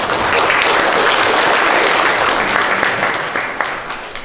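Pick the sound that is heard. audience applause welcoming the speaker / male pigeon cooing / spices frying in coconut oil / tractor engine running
audience applause welcoming the speaker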